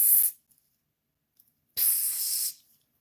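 A voice imitates a pepper spray hiss with two bursts: a short sharp one at the start, then after a pause a longer, louder sustained hiss, close and alone.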